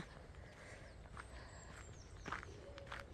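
Footsteps of a person walking outdoors near the sea at sunset among purple flower beds, a few quiet, unhurried steps over faint ambient background.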